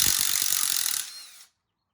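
Socket wrench ratcheting as bolts on a Triumph Street Triple 675 headlight are loosened: a quick run of about a dozen close, crisp clicks, then a brief fading mechanical rasp before silence.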